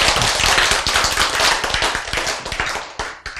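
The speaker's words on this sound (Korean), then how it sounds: "박수!" A church congregation claps in a dense, loud round of applause from many hands, sustained for a few seconds and thinning slightly toward the end.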